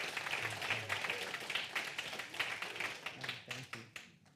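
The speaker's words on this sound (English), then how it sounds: "Can we give Stephen another round of applause?" Church congregation applauding at a Sunday celebration service, a steady patter of many hands clapping at moderate distance, fading toward the end.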